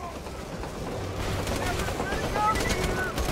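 Gunfire in Borderlands 2 combat, repeated shots and bursts at moderate distance under someone talking throughout.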